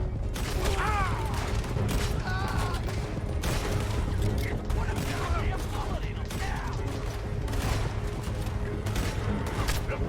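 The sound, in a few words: gunfire in Red Dead Redemption 2 video game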